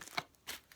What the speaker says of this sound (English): I'm just going to give the tarot a shuffle first